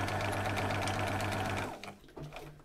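A sewing machine stitches a fabric gift label, running at a steady fast rhythmic whir up close for most of the span, then stopping and leaving quiet handling sounds.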